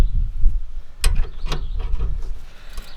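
An 11/16 wrench loosening a bolt on a used reel mower, giving a few close metallic clicks and ratcheting scrapes with one sharp clank near the middle, with no voices.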